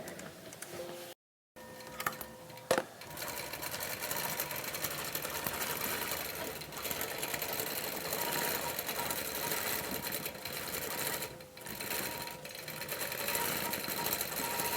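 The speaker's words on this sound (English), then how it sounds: "So then all we have to do is hit start quilting." A computerized quilting machine stitches a pebble pattern on a Dream Big panel, a fast steady mechanical needle rhythm with motor whir that runs nearly continuously after a brief pause near the start.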